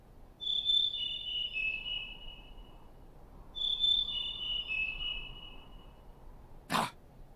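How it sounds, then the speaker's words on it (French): The song of the rare Merula alba bird in the Syberia 2 game comes as two thin, high, trilling phrases a few seconds apart, faint and alone over a soft hum, followed by a brief sharp click. "C'est le chant du Merula alba."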